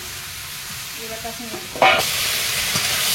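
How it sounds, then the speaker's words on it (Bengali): Pointed gourd, potato and shrimp being fried and stirred in spice paste in a pan, with a brief loud sizzle burst as the ingredients go in, then a steady hiss; a voice speaks briefly. "মশলার সঙ্গে এখন ভালো করে এইগুলোকে আর একটু ভেজে দেবো"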